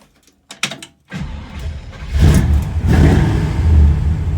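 A 1957 Chevy gasser's engine cranks and fires up, heard from inside the car: brief starter clicks, then the engine catches and settles into a loud, rumbling idle with slight revs.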